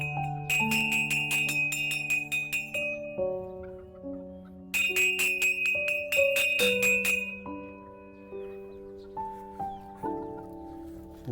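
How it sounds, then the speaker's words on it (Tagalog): A bell rung to call chickens home in a garden, a bright melodic run of ringing tones in two bursts with a pause between, close and loud, with no talk. "So I need to ring the bell so that the chicken will come out here."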